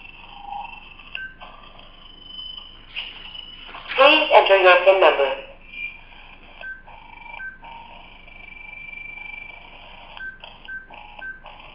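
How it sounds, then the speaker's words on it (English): Telephone dialing tones, several short tonal beeps in irregular sequence around a louder burst of noisy tones in the middle, sounding thin like a phone speaker, with faint background hum. "So we're phoning Adam again."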